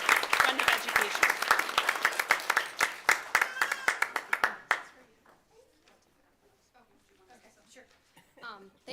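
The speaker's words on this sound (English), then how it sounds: "Let's give a warm round of applause again for Sarah Jensen." A modest crowd at a school board meeting claps briskly for several seconds, the applause close and distinct before it dies out abruptly, leaving quiet room sound and a voice beginning to speak.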